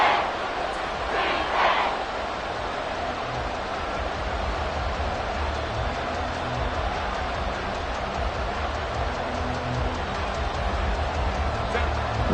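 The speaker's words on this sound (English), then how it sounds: "This crowd doing all they can." A football stadium crowd roars in a dense, continuous wall of cheering and noise late in a close game, loud and sustained with a brief swell near the start.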